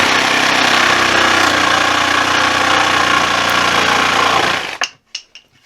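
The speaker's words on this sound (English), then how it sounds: "now I'll just take the jigsaw and I'll run it up to that line" Jigsaw cutting a notch into wooden baseboard, a loud continuous buzzing saw run for nearly five seconds, then cutting off abruptly followed by a few short knocks and handling clatters.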